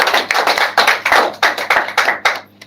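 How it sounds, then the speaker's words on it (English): An audience at a gathering breaks into a round of applause, loud, close claps falling in a strong, fairly regular rhythm before tapering off. "Let's give him a round of applause"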